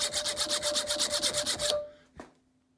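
Cheap dollar-store hacksaw cutting a threaded rod clamped in a vise, about a dozen quick, even rasping strokes close up, then a stop and a single faint knock.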